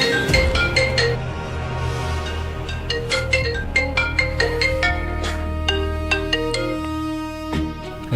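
A mobile phone plays a loud, clear melodic ringtone, bright chiming notes repeating in a tuneful pattern for several seconds with no one speaking over it.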